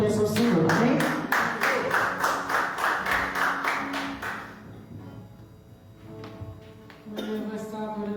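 Congregation clapping together in rhythm during a church service, a dense, steady burst of hand claps that fades out midway, followed by quieter room sounds and a brief return of clapping at the end.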